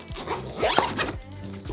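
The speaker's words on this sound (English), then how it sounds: "pop it in the case, pop your little phone bit over the top, zip it up" A carrying case for a Muwi Motion Flow X phone camera slider is zipped shut, making a close, quick run of ratcheting zipper strokes that rise and fall in rapid succession, with no talk.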